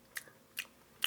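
Three crisp, close crunching bites into a juicy apple, spaced roughly evenly and quiet overall.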